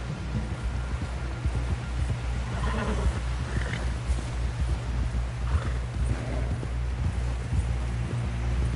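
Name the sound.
horse hooves clip-clopping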